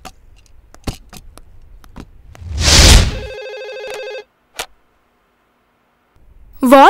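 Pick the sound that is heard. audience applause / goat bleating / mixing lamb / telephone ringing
telephone ringing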